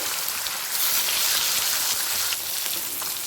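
Silver carp pieces frying in oil in a pan with a little salt, a steady bright crackling sizzle that swells slightly midway and carries on alone without talk.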